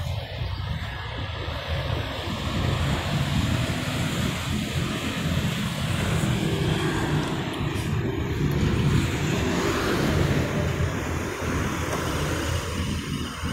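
A Mitsubishi CT601-M tiller engine running smoothly: a steady, continuous mechanical drone with a low rumble, heard close for over thirteen seconds with some wind noise and no talking.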